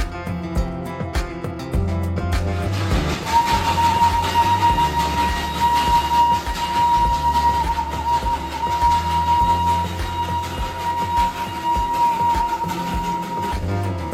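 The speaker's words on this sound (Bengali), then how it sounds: "প্রায় 140 বছর ধরে একইভাবে পরিষেবা দিয়ে চলেছে এই ঐতিহ্যশালী টয় ট্রেন" Darjeeling toy train rolling past Ghum railway station, India's highest station, a steady loud rumble of rail and carriage noise with a sustained tonal whine running through most of the passage.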